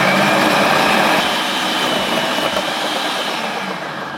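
A Fimei food processor shreds carrots with its motor set below top speed, giving a loud, steady whirring drone that continues without break and eases slightly toward the end, with no talking.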